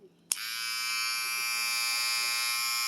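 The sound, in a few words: AliExpress electric hair trimmer running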